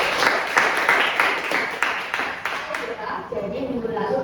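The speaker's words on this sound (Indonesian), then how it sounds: "Kita beri aplaus dulu untuk jawaban Mbak April." A classroom group claps for a student's answer, a short burst of scattered hand claps that fades within a few seconds as a voice continues talking over it.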